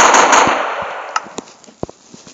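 M16A4 rifle firing in a Minecraft PE guns mod, a loud sharp burst of gunfire up front followed by a few scattered faint clicks and pops as it dies away.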